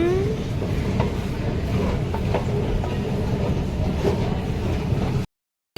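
Delhi Metro train running on rails, a steady rumbling roar with rhythmic clicks and rattles from inside the car, continuous at moderate loudness until it cuts off abruptly near the end.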